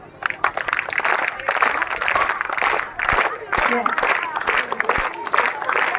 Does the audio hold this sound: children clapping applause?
yes